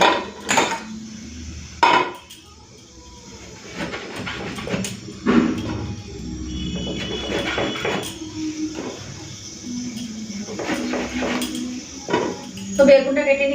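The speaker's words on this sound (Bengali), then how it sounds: "এদিকে একটুখানি বেগুনটা কেটে রেখে দিই" A knife chops through an eggplant on a cutting board in a home kitchen, a series of uneven, close knocks and clatters, with some dish and utensil clinks mixed in.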